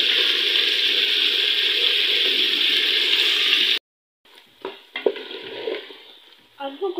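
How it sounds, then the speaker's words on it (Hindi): Potatoes fry gently in oil in a pan for shimla mirch aloo, a strong steady hiss that cuts off abruptly, then softer crackles and stirring scrapes come back in uneven bursts. "तो अब हम इसे बिल्कुल हल्का सा फ्राई कर लेते हैं।"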